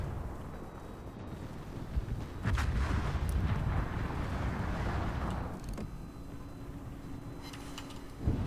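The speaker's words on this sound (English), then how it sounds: "it was lovely broadside of Los Andes, but not that the guns were especially behaving" Battleship broadside in World of Warships, from the USS Tennessee: a heavy, rumbling roar of gunfire that swells and booms over a constant low game ambience, with scattered sharper cracks and no voices.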